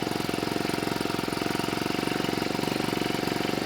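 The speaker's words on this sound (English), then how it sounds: "We'll run it with the choke for a little bit." Small two-stroke hedge trimmer engine, under restoration, idling steadily with the choke on, giving a continuous rapid buzzing putter at close range with no talk over it.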